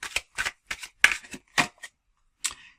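Tarot cards are shuffled in a series of short riffling bursts, roughly seven quick rasps close up, followed by a brief pause and one last card being slid out.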